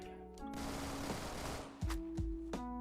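Automatic gunfire rattles in the video game Phantom Forces, an HK21-type machine gun firing a sustained burst, with a few sharper separate shots toward the end, loud and close.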